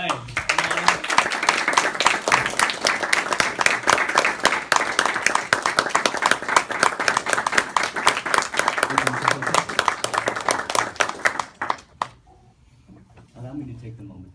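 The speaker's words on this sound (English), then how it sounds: "Give me a big welcoming round of applause for Sufyan here." A crowd claps steadily in dense, sustained applause for about eleven seconds, then it stops abruptly and the room goes nearly quiet.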